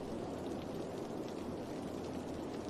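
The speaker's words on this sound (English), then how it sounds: "Now we get an achievement, Singing in the Rain, because it's never rained on the game before." Steady rain hisses across the city in Cities: Skylines, a dense, even wash of falling drops with no talk over it.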